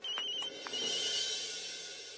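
Mobile phone ringtone ringing indoors, a bright electronic tone with a few short repeated chimes at the start, then a sustained ringing that continues steadily and fairly close, with no talk over it.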